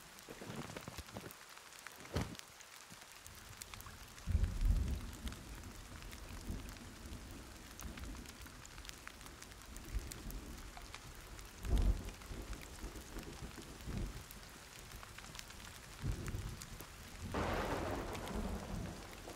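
Thunderstorm in the forest survival game Sons of the Forest: steady rain hisses throughout while several deep thunder rumbles and cracks roll in at intervals, some near and booming, others more distant, with no talk.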